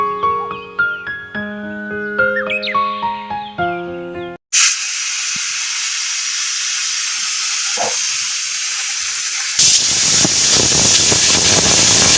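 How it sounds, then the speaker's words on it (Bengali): A pressure cooker holding khichuri lets out a loud, steady steam whistle. The hiss starts abruptly after a short stretch of music and continues strongly to the end, growing harsher near the close. "আমার প্রেসার 2টা বাসি দিয়ে দিছে, তার মানে আমার খিচুড়ি হয়ে গেছে"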